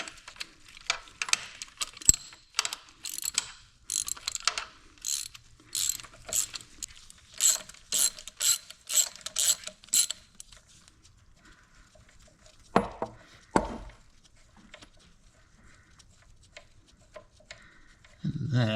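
Ratchet wrench backing out a nut on a John Deere 430 two-cylinder tractor during a transmission teardown, with bursts of rapid, close clicking separated by pauses.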